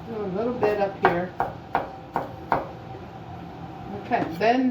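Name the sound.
knife chopping onion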